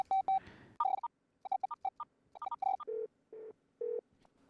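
Telephone keypad tones beep in quick irregular bursts as a number is dialed, followed by a few longer, lower tones, clear and close with no talking.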